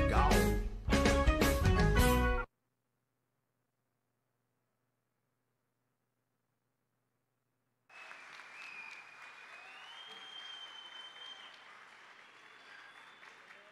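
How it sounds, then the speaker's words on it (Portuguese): A church congregation at a Sunday morning service applauds after a song. The clapping rises after a short burst of music and a long silence, and continues steadily at moderate volume with a faint tonal ring over it. "Mais uma vez, salva de palmas!"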